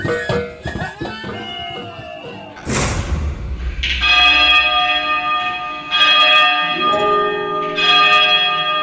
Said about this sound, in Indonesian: Bunyi lonceng gereja mulai berdentang.